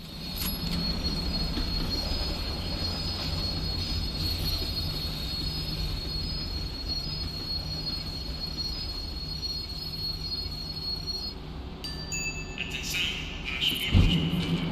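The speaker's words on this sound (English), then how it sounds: "The tram was slowing down, and I'd only just gotten on board." A tram in the game Max Payne 3 rolls along and slows to a stop, with steady rumbling wheels and a sustained high metallic squeal that breaks off near the end, followed by a clunk.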